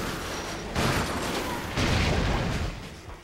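A weapon in the Ratchet and Clank: Future Tools of Destruction video game fires repeated heavy booming shots, loud and close in bursts with a continuous roar beneath.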